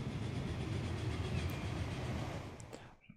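A train pulls into a station in the Transport Fever rail-management game, a steady loud rumble of wheels on track that fades out near the end.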